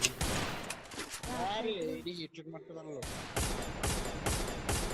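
Gunfire in a shooter video game: dense bursts of rapid shots, loud and close, broken by a brief pause in the middle, mixed with tonal game effects.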